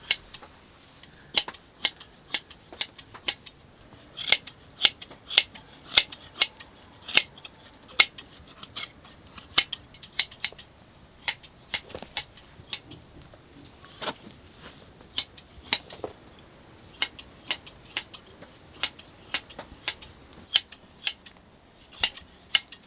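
Hand shears snip through sheep wool in quick, irregular clicks that repeat throughout, close and crisp with no talking.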